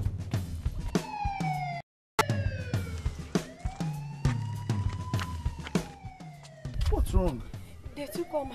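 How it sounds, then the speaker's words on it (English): A police car siren wails in rising and falling sweeps, loud and close, cut briefly by a moment of silence, with voices speaking over parts of it in a radio drama scene. "they hit the siren and bolted"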